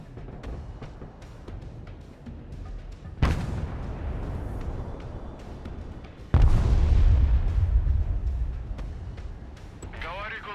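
Artillery fire in the war video game Broken Arrow: two heavy booms land a few seconds apart, each a loud sudden blast with a rolling tail, the second the strongest, over a low battle din.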